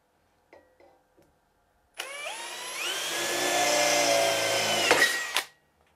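An Einhell TP-CD 18/120 Li-i BL brushless cordless drill in second gear bores with an 8 mm Bosch HSS cobalt bit. A few faint clicks come first, then a loud, close, whining drill run of about three and a half seconds climbs in pitch and stops abruptly.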